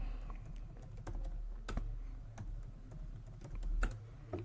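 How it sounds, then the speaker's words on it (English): Someone types a new password on a computer keyboard, a close run of irregular, crisp key clicks and taps, some sharper than others, over a faint low hum with no talk. "And then now I'm going to enter a new password."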